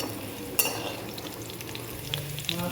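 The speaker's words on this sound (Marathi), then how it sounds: "आपली मिरची फ्राय झालेली आहे छान." Green chilies fry in a pan with a constant close sizzle, punctuated by a sharp metallic clink early on and a few light utensil taps toward the end, with no voices.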